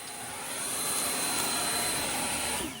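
An Ego Commercial LBPX8006 leaf blower runs on turbo, a loud, steady high-pitched rushing whine and airflow roar that holds evenly close by before dropping off at the end, with no talking.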